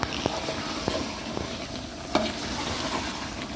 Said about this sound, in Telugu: చికెన్ వేసుకుందాం, బాగా కలుపుకుందాం.